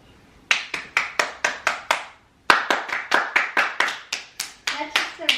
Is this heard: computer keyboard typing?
no